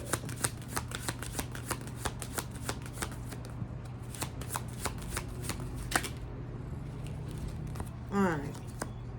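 An oracle card deck being shuffled by hand, a run of crisp repeated riffling bursts up close, fairly quiet, ending with a brief softer rustle.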